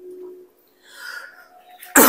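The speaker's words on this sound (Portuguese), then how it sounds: "Ainda tá tossindo ainda." A person recovering from a cold coughs: faint throat sounds and a brief voiced hum, then one sharp, loud cough bursts out close at the very end.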